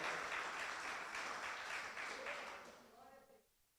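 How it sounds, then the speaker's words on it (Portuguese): Church congregation applauding during a sermon, a dense wash of clapping that fades out toward the end, with a voice speaking over it. "vocês estão aplaudindo bastante Jesus"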